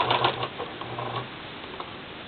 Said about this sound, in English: This time I'm sewing on the fabric.